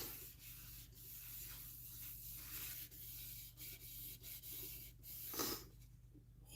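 A turned workpiece spinning on a lathe is sanded with liquid wax, giving a soft, continuous rubbing and scratching with brief pauses and shifts in pressure. No one talks.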